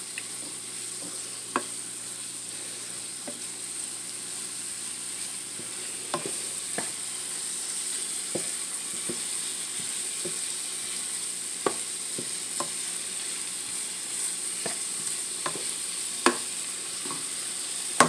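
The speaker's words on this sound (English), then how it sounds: "you just saute this for just a few minutes" Vegetables sauté in a pan under a steady, fairly soft hiss, marked by scattered clicks and taps of a utensil stirring, close and without any talk.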